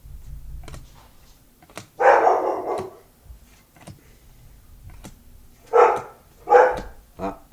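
A pet dog barks at someone at the door indoors, one loud bark followed after a pause by three more in quick succession, with faint ticking in the quiet gaps.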